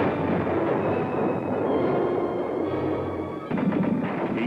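An M60 Patton battle tank fires its 105-millimeter cannon, a heavy, sustained blast-like roar filling the whole clip with a sharp second report near the end, loud and close.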